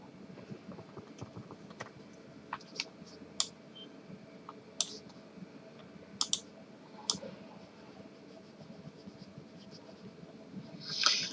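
Pen or marker writing on a board or paper during a physics lecture, soft scratching with scattered sharp clicks and taps over a quiet room hum, no speech.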